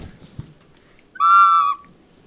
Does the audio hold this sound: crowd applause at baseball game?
no